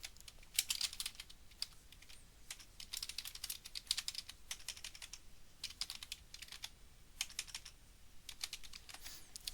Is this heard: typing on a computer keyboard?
yes